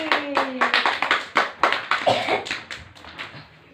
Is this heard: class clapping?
yes